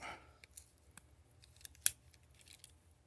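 Pocketknife from Sheffield, England, with tin scales under plastic shrink wrap, its blade clicking open and snapping shut in a few faint, sharp metallic clicks against a quiet background.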